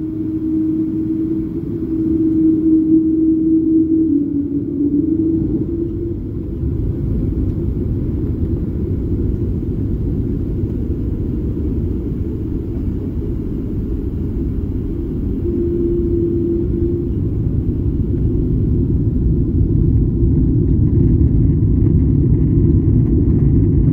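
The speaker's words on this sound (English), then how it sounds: "enjoy the sights and sounds of our takeoff" United Airlines airliner taking off from San Francisco, heard from inside the cabin: a steady, loud low engine rumble and roar building through the roll and climb, with a faint tonal whine early on.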